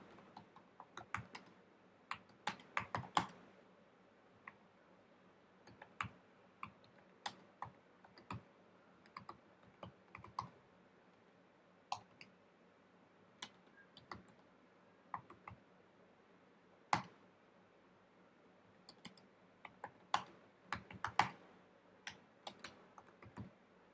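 Typing a note on a computer keyboard in Obsidian, heard as quiet, close key clicks in irregular bursts and pauses over a near-silent background.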